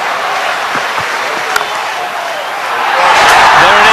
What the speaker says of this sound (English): if he does go to 100, this crowd will erupt